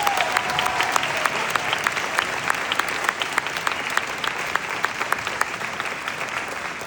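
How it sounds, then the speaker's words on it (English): An audience applauds graduating students of an Academic Center at a high school graduation ceremony, steady dense clapping that holds at even strength for about seven seconds, with a few sharper individual claps standing out from the wash. "Let's give our students a round of applause."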